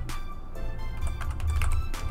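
Keys clatter on a computer keyboard as a password is typed, a quick run of light close-up taps over a faint steady hum.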